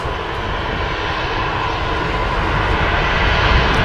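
An EasyJet Airbus A320neo taxis out at Manchester Airport, its engines giving a loud, steady broadband roar that holds constant throughout.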